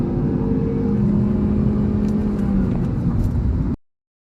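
A petrol sedan with a manual transmission accelerates with a steady, droning engine note that holds even and close throughout. The sound cuts off abruptly just before the end.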